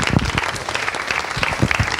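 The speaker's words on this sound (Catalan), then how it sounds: "Per això demanem un fort aplaudiment pel Joan Anton Català." A live audience applauds speaker Joan Anton Català at a talk, a brief burst of dense, close clapping filling the whole moment.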